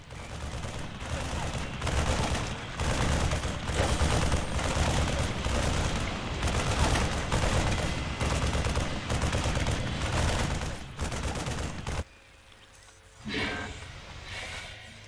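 Dense, sustained gunfire from the video game StarCraft 2 Wings of Liberty, rapid machine-gun bursts and explosions rolling on for about twelve seconds, then a brief lull before the fire resumes.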